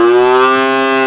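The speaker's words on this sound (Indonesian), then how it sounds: "Banyak pelihara sapi di sini, Pak ya." Cattle at a farm in a remote forest village moo in one long, loud, sustained low call, close by and alone without any talk.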